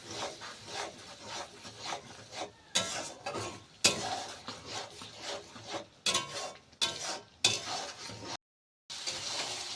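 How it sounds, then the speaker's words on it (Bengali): Close-up rasping and scraping of a spoon working meat masala in oil in a pan for a green jackfruit curry, in repeated strokes with brief pauses, no voices. "ভালো করে মশলাটাকে কষিয়ে নিতে হবে।"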